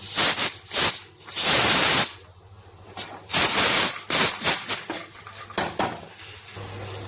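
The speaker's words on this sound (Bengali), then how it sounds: "এখানে দেখুন প্রেসারে সিটি এসে গেছে" A pressure cooker vents steam in loud, close bursts of hissing whistle, several long blasts separated by short gaps, with a few metallic clinks of pots and utensils between them.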